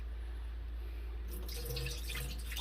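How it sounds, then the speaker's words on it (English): Water trickles and drips while rice is rinsed in a kitchen sink, a quiet, steady flow with small splashing sounds that grow busier toward the end, with no voices. "So just rinse it out up to that level and add more water, and do this at least 3 times."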